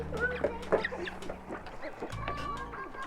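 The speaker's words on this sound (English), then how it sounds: "I'm pretty sure these are the mallard ducks." Mallard ducks at a nature sanctuary in Spruce Grove, Alberta, giving several close quacks and clucking calls in an irregular run, with people talking nearby.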